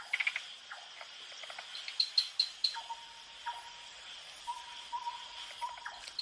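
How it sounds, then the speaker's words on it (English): Tree frogs calling at night in the African wild, with short chirps and clicks plus a few thin, high trilled notes. The calls are sparse, scattered and fairly faint over a quiet nocturnal background. "various tree frogs"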